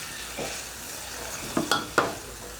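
Sun-dried pork is stir-fried in a pan with onion flowers: a soft, steady sizzle with a few quick scraping, clinking strokes of the utensil near the end.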